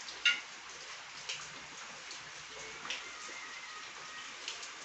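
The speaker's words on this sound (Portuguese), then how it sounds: "Oh, chuvinha boa." Light rain patters on wet banana leaves during a Brazilian rain shower, a faint, steady hiss with a few soft, scattered drip taps.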